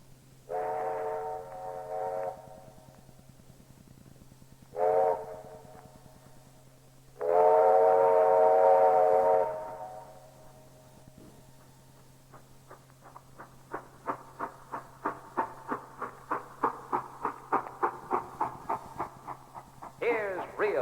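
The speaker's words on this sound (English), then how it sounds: "Lionel Express arriving on time." A Lionel Express model train whistle blows in several sustained harmonic blasts, then the train's rhythmic clacking chuffs build steadily and louder as it arrives, over a low steady hum.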